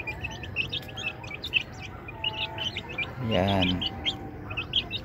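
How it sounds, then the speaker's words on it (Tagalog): Many small chicks peep in rapid high chirps, near and continuous, with a voice speaking briefly among them. "Ayan yung aking mga sisiu."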